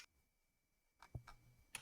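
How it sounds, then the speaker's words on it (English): Clicks and clacks of fingers typing on a computer keyboard, a few brief key bursts after a quiet start, faint and close, with no talk. "I'm typing right now."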